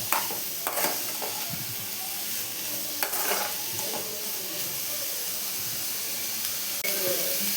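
Onions, ginger and garlic fry in a pan for channa masala with a steady close sizzle, broken by occasional scraping stirs and soft clinks.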